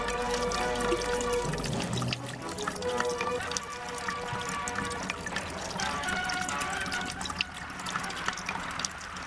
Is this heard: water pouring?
yes